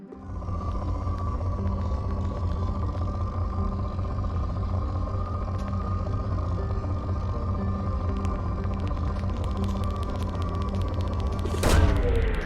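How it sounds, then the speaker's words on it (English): A low mechanical rumble hums steadily during a planet scan in Mass Effect 2, ending with a sharp, bright burst as a probe launches near the end. "Launching probe."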